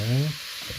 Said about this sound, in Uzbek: Kartoshkani solamiz va uni ham qizarguncha qovuramiz.